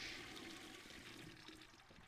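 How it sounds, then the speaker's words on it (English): A toilet flushes with a steady rush of water that continues for the whole stretch before slowly easing, heard at moderate level with no talking. "Flush."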